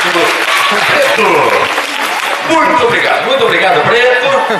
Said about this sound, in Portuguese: vou dar uma salva de palmas